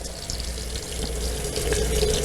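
A tap runs water steadily over a sample being rinsed clean of black dirt in a lab sink, a continuous close splashing wash that grows slightly louder, with no talking.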